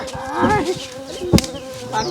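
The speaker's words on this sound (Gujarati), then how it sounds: "મચ્છર મચ્છર કરીને મારું લોહી પી જાય છે" A mosquito whines close and loud in a high, wavering buzz for about two seconds, broken by a brief thump midway.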